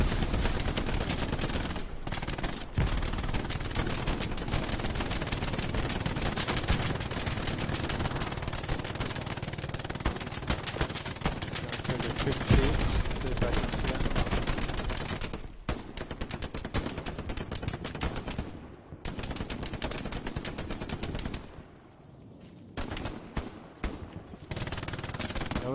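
Rapid gunfire and machine-gun bursts rattle almost nonstop in the Jarvenhill video game, loud and close, before thinning out into scattered shots near the end.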